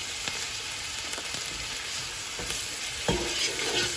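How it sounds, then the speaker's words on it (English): Salted minced meat keema cooks down in a pan while being stirred, a dense close sizzle with repeated spatula scrapes and taps, and a louder stir near the end. "I'm going to cook this keema until all the water has dried up and the keema is nice and brown"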